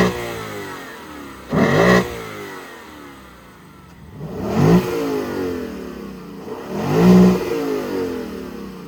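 A 2026 Lexus V8 engine revs hard three times, each time banging off the limiter, with a lower rumbling idle between the bursts and no talking.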